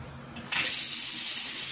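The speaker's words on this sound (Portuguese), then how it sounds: "Então, vamos abrir a torneira." A Docol quarter-turn faucet is opened and water suddenly gushes out after a short quiet moment, a steady bright hissing flow close by that continues to the end with no speech.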